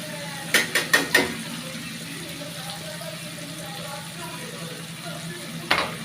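Kuzhambu spice powder fries in oil, giving a soft steady sizzle close by, broken early by a quick run of sharp clinks or scrapes and one more near the end.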